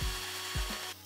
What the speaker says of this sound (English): using my battery drill and rubbing the axles against some sandpaper just to remove that surface rust